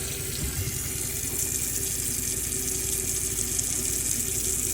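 Tap water running steadily inside a Chausson Welcome 728 motorhome while the boiler fills, a constant close hiss and rush of flowing water with no pauses or talk.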